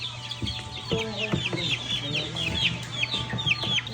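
Chickens cluck and call over a steady low background hum, several birds making repeated short clucks with higher squawks mixed in, close and continuous.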